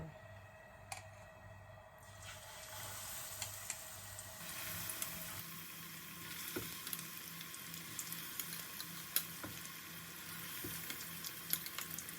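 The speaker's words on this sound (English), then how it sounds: "I'm going to drop in the bananas into the hot oil" Steady hiss of bananas frying in hot oil, with a louder sizzle swelling partway through and small crackles and pops scattered over it; no voices.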